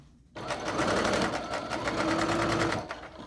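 A sewing machine stitches apron fabric, starting abruptly after a short quiet moment, then running in a fast, even, close-up whir that keeps going for about three seconds.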